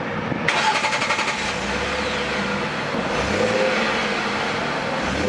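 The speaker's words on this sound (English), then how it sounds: "Very precise sound at startup with a really rich and thick melody through all RPM ranges." A 2011 Ford F-150 with the 3.7 liter V6 cranks briefly and fires up, then settles into a steady low rumble with a slight rev, close by and without talk.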